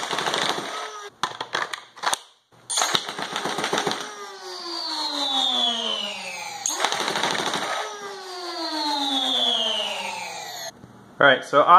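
An FDL-2 foam dart blaster fires rapidly at about 12 to 13 darts a second, loud rattling bursts with a motor whine that spins up and winds down between volleys.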